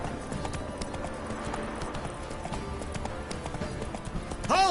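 Roach, a horse in The Witcher 3, gallops in quick close hoofbeats, clear and steady, ending with a brief louder rise.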